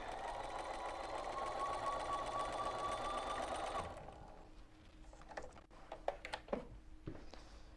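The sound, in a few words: sewing machine stitching quilt table topper pieces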